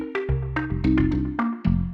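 A pipe bass patch played in Klevgrand's Tomofon sampler within a pop arrangement: deep, sustained low tones shift pitch every few beats beneath bright plucked melodic notes, close and clean with no voices.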